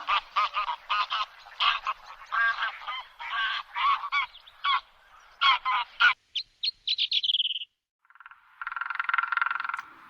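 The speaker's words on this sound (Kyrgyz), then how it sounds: "А булар каздар." Geese honk in a rapid run of loud, nasal calls, one after another for about six seconds. A few shorter calls and a thin trailing whistle follow, then a buzzy chatter closes the passage.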